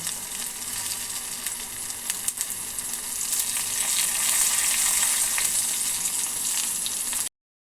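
Curry leaves and coriander leaves hit a pan of frying teeyal masala for bitter gourd, giving a steady, close hiss and crackle of sizzling oil, briefly stirred, with no talking.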